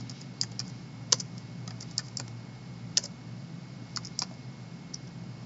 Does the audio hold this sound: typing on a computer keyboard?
yes